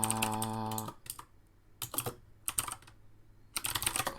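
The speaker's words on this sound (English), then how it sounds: "I can't even type today either." Bursts of clicking on a computer keyboard in short, uneven clusters separated by pauses, close up and fairly crisp, following a brief tonal sound at the start.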